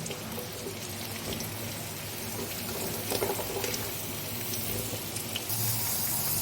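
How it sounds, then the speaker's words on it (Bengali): Steady crackling sizzle of potatoes and papaya frying in hot oil, continuous and fairly loud throughout, with no voices. "আলুগুলোও দিয়ে দেবো, একসাথে ভেজে তুলে রাখবো।"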